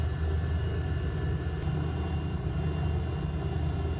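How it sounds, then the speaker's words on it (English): Airplane taking off at Eugene Airport, a steady broadband engine roar with low rumble that holds continuously at a moderate distance, with no talking. "There's a plane landing, and then there's 2 planes taking off in front of us."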